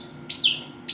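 Person in a store aisle imitating a bird chirp as loudly as possible, two sharp, high whistled tweets, the first slightly drawn out, close and alone.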